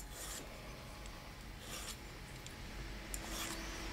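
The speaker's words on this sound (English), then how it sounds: "So you're just going to go all the way around and file that beveled out" A hand file rasps around the edge of a silver ring to bevel it, a soft, continuous scratching with a few brighter strokes standing out, faint and close, no voices.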